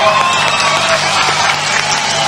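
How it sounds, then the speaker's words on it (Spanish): A large crowd at La Mancha de Rolando's rock show at the Cosquín Rock festival applauds and cheers loudly and continuously, dense clapping with scattered whoops filling the venue. "Un aplauso para el público de parte de la Mancha de Rolando"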